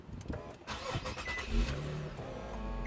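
An Infiniti G37x starts with a quick crank and catches, then settles into a steady, deep exhaust idle heard up close, with no talking.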